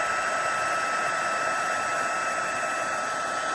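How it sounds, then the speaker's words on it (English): A heat embossing tool blows steadily over cardstock with white pigment ink, a constant close whooshing hum like a small hair dryer, unbroken throughout with no talking. "this is kind of how you want to do your embossing, heat embossing, is just move it along your cardstock"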